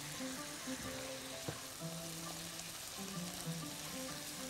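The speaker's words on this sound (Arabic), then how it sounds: "ونقلب بقى جامد." Sausage being stirred and fried in a pan for sausage in tomato sauce, giving a soft, constant sizzle with faint spatters and an occasional scrape of the spoon, fairly quiet and steady.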